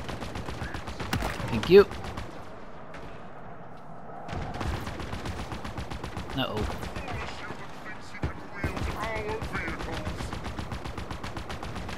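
Mounted vehicle gun firing from a Ghost in Halo Infinite, rapid repeated bursts in a steady rattling rhythm, with a voice talking over parts of it.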